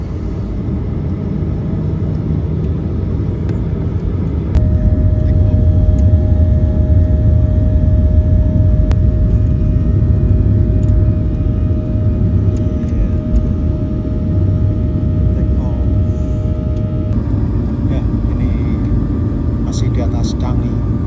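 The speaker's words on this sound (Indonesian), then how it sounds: "Ya, itu ada pesawat take off." An airplane takes off near Changi Airport in Singapore, giving a loud sustained engine roar with broadband rushing noise that holds for the whole stretch.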